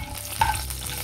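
Whole spices crackle in hot oil as they temper: fennel seeds, cinnamon, cloves, bay leaf, stone flower and dried red chillies, for a mutton gravy. A steady close sizzle with one brief louder pop.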